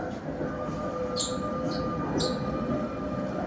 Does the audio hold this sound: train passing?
yes